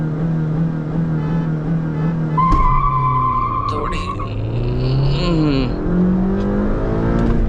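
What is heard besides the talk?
Hyundai Verna and Honda City cars launching in drag race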